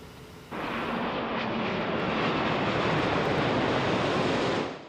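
A low-flying airplane near O'Hare International Airport roars overhead as a broad, steady jet rumble that swells in suddenly and holds loud for several seconds, with no voices.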